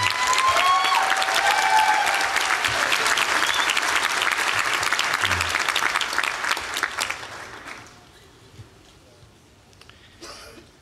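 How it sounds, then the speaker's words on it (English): A commencement audience at Mount Ida College's 2015 graduation breaks into sustained, dense applause that holds strongly for about seven seconds, then thins out and fades to scattered claps and quiet. "we'd like to give all of our family, friends, parents, children, relatives, and others a great hand of applause"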